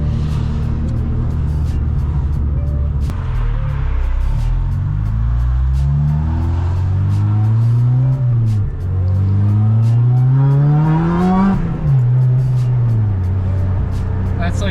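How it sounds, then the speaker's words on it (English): A supercharged car revs hard on a dyno, engine tone sweeping up and down repeatedly with a high supercharger whine riding above, loud and close throughout. "Hearing that supercharger whine is crazy."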